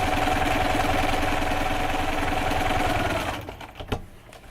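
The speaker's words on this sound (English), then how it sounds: "go ahead and sew along the other line" A sewing machine stitches a quilt block with a steady, loud, close mechanical whir that runs for about three seconds, then stops, leaving a few small clicks and knocks.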